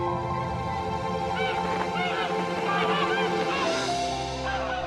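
A flock of geese honks repeatedly as they fly over a vast forest in northeast China, the calls overlapping in rhythmic bursts above a steady bed of ambient noise.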